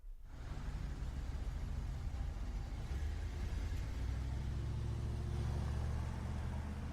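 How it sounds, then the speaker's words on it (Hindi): A car engine runs steadily for about seven seconds, a continuous low rumble with a slight rise in revs toward the end, as if pulling away; close and fairly loud with no talking. "ये है ड्राइविंग अवे। इसको देखते हैं पहले।"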